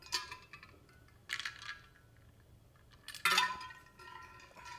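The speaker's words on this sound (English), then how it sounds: "Oh, that's loud. Sorry, there's ice cubes in there." Ice cubes clink against the side of a glass in a few short, bright rattling bursts, close to the microphone and fairly loud against a quiet background.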